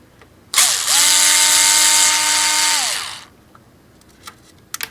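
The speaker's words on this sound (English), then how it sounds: "I'm going to just remove some screws here." An electric screwdriver or drill whirs steadily for about two and a half seconds, winding up and then down, as it removes screws from the cover of an Apple eMac computer, followed by a few faint clicks in a quiet room.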